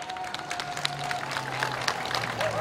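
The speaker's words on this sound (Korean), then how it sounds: "여러분 큰 박수로 맞아주시기 바랍니다." Crowd applause and cheering at an outdoor election campaign rally in Janghowon, a steady crowd wash with a sustained tone running underneath and sharp claps scattered through it.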